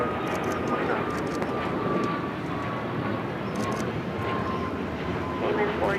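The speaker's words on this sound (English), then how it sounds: "That was Cayman Airways 481 taking off to Georgetown on the MAX 8." Cayman Airways Boeing 737 MAX 8 jet taking off at LAX, a steady loud engine roar sustained throughout, with faint radio chatter beneath.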